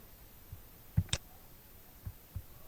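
Computer mouse buttons clicking while working in MS Paint, a few sharp, quiet clicks spaced irregularly with a close pair near the middle, otherwise near silence.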